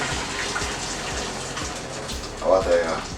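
Cooking water being strained off boiled sweet potato and pumpkin, a steady pouring gush into a sink at moderate volume with a brief louder splash near the end, and faint kitchen noise beneath.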